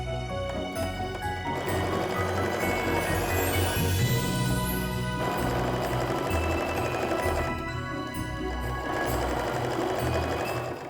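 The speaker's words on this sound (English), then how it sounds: "All right, time to flip it around and sew the other side." Sewing machine stitching a fabric mug rug, running loud and close in a continuous fast mechanical whir with slight changes in speed and no pause throughout.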